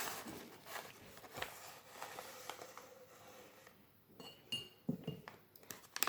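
A spoon clinks against a drinking glass while baobab powder is stirred in, giving a few light, scattered taps and scrapes that sit close and fairly quiet.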